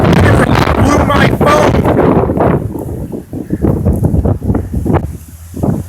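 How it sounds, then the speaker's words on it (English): Strong wind gusts before an incoming storm roar and buffet the microphone loudly, then ease into softer, uneven rushes and rustles near the end. "when a good gust comes up, it comes up"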